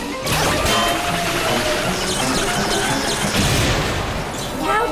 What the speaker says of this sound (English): Couch wash-o-matic explodes.